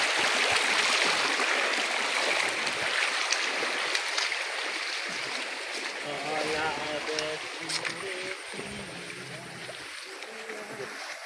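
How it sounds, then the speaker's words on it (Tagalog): Floodwater rushing through a creek that has only just filled after heavy rain, its muddy flow a steady, broad roar close by, with a voice talking briefly over it. "Yan, babagong nagkatubig yung aming sapa. Babagong baha po yan."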